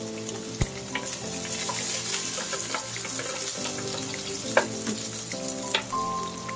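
Garlic sautéing in a hot pan for sotanghon guisado, a dense continuous sizzle with a few sharp clinks and scrapes of stirring, close and steady, no talk.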